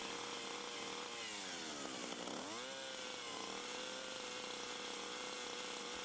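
A running chainsaw brushing wood with its bar tipped about 90 degrees to the surface, a steady close buzzing whine with pitch dips as the chain bites and eases off.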